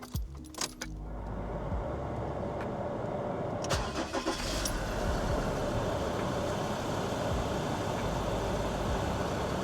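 Mazda BT-50 ute diesel engine cranking and catching quickly after a few clicks and key rattles, then settling into a steady, fairly quiet idle.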